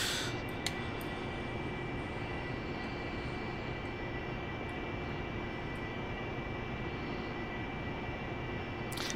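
An AV-8B Harrier's jet engine roars as a steady, unbroken wash of broadband noise with a faint high whine during an overhead break in the DCS World flight simulator, constant and even throughout.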